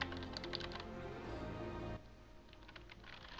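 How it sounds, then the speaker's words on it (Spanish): Rapid typing on a computer keyboard, a steady close patter of key clicks over a background hum that drops partway through, with no speech. "Qué buen teclado que tengo, watch."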